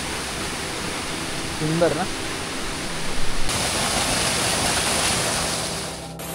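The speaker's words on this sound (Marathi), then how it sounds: "मस्त आणि सुंदर असा झरा वाहतो." A stream of water flows steadily near a cave along the Konkan coast, giving a continuous broad rushing hiss that grows fuller partway through, with a brief voice speaking over it.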